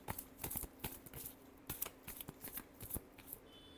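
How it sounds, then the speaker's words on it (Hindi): Tarot cards are shuffled close by in a quiet room, a run of quick crisp riffling bursts and soft slaps in an uneven rhythm, fading to near quiet at the end. "last shuffle"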